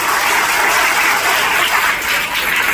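An audience claps continuously in a dense, loud burst of applause at a public event.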